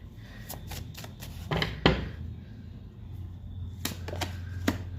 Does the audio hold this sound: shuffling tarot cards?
yes